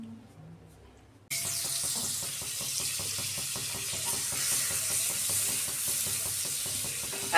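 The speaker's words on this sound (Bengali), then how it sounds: "আর একবার ভাজবো তো।" Chicken kebab pieces fry in butter in a hot pan, starting after a brief quiet moment and then sizzling densely and steadily at close range, with faint stirring scrapes underneath.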